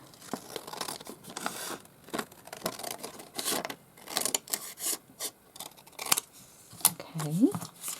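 Scissors snip and crinkle paper while a scrap holder folder is made, giving short irregular cuts and rustles close by, mixed with faint talk.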